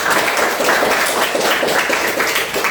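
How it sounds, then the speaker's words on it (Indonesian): Students in a junior high social studies classroom give a round of applause. The clapping is dense, loud and close, and it is sustained without a break for nearly three seconds. "Oke, tepuk tangan lagi semuanya."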